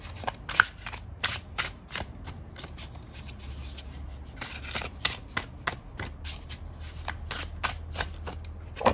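A tarot card deck is shuffled by hand up close, a run of quick crisp riffling bursts and soft slides in an irregular rhythm, with no talk.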